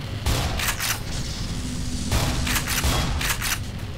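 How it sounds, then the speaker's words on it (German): Enemy gunfire in the shooter Black Mesa inside a reactor core, rapid bursts of automatic shots in clusters, loud and close, with short pauses between volleys. "Die schießen einfach zu heftig und zu schnell."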